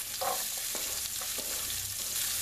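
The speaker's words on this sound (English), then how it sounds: "I'm going to throw some onions into that exact same pan" Roughly chopped medium onion sizzles steadily in a hot frying pan, a dense continuous crackle with a few brief stirring scrapes, close and alone without talk.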